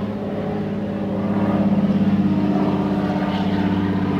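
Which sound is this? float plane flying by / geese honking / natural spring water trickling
float plane flying by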